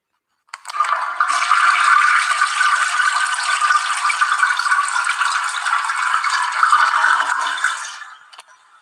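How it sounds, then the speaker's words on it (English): A toilet flushes in one long continuous rush of water lasting about seven seconds, loud and close, with no talking over it. "That's why this shit has to be flushed right now."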